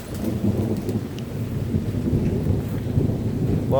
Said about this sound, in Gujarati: જો ઉનાળામાં આવ્યો વરસાદ